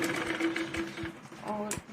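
A sewing machine runs in short bursts, stitching a cut strip onto a jacket piece, its motor whirring close and fairly quiet with brief pauses and a faint clack near the end.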